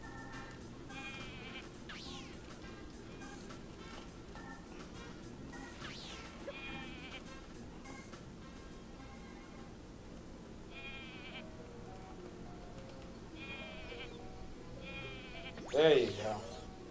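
Cartoonish sheep in the video game Rocket: Robot On Wheels let out repeated short bleats over a quiet background, with a sudden louder crash-like burst near the end and players chatting over it.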